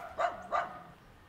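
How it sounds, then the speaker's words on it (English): Dachshund barking nearby in two sharp, loud barks a moment apart, then quiet background. "There's a wiener dog back there that wants to kill me."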